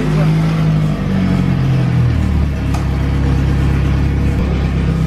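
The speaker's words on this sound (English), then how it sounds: "It's a Mustang dyno." A Ford Mustang engine revs on a Mustang chassis dyno, a loud sustained drone with a drop in pitch early on, steady and close throughout.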